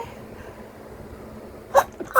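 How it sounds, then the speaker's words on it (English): A woman's build-up to a sneeze, quiet breathy tension followed by two sharp, close sneeze bursts near the end. "I got to sneeze."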